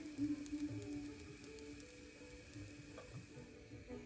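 Masala dosa batter sizzling in a crepe pan with coconut oil sprinkled on, a faint, steady hiss with light crackle and no talking.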